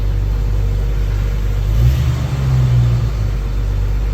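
A Jeep Wrangler TJ engine idles steadily right after starting, running low on gas. It gives a close, loud, even rumble with a brief swell in the middle, and no talk.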